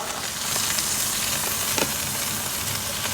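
Steady close sizzle of a Trader Joe's burger frying in bacon fat on a Summit camp stove outdoors, a continuous hiss with small pops, with no voices over it.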